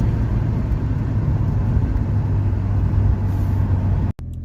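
A VW Mk2 Golf 16v engine with a Porsche-collaboration tune runs in a loud, steady, rumbling note that holds evenly, then cuts off abruptly near the end.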